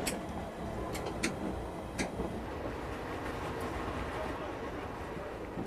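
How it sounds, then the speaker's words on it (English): A London Underground tube train at Baker Street rumbles and rattles along, with low steady rolling noise and several sharp metallic clicks and clanks near the start. "This is Baker Street. This train terminates here."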